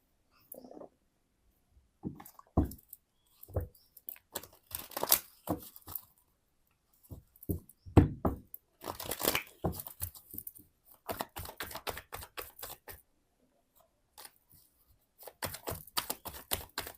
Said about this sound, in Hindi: तो सबसे पहले मैं कार्ड्स निकालती हूँ।